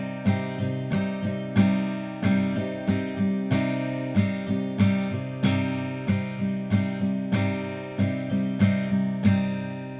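Acoustic guitar strummed in a sea shanty folk pattern, a steady lilting rhythm of accented downstrokes and lighter upstrums repeating evenly, close and moderately loud, with no voice.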